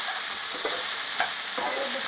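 Okra frying in an open pan and being stirred, a steady close sizzle with soft periodic scrapes of the spatula, no voices.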